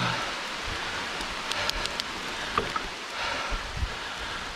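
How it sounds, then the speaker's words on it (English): Steady rain falls on a forest trail in a state park, a dense even patter with scattered louder drops close by, no voices. "Now the rain is coming."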